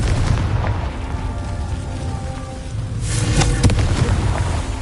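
A Confringo blasting spell detonates in the Hogwarts Legacy video game, a loud booming explosion bursting out after a low rumbling buildup, with a sharp crackling blast near the end.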